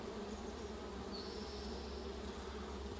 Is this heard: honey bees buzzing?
yes